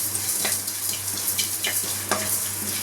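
Cinnamon and fennel dry-roasting in a pan with no oil, a soft continuous crackle and hiss with a few light scraping stirs, steady and close over a low background hum, no voices.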